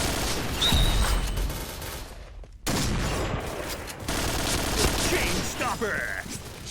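Rapid bursts of AUG A3 assault-rifle fire in the online shooter Point Blank, loud and dense, with a short break in the middle before the shooting resumes, and someone talking over part of it.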